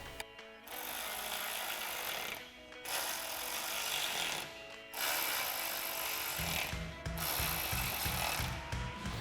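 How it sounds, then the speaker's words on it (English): A ratchet tightens 6mm combo bolts with a 5/32 Allen socket on a Jeep Wrangler JL roof rack extension, with bursts of rapid clicking separated by short pauses, close and clear. "grab your 5/32 Allen socket, tighten those down, and do the same thing on the other side"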